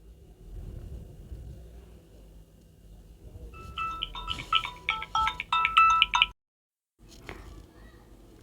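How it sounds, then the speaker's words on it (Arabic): A mobile phone rings loudly in a home kitchen during cooking, its repeating electronic ringtone pattern cutting through low background noise, then stopping abruptly; faint room sounds continue afterward. "او كل فيديو كده تليفوني يرن"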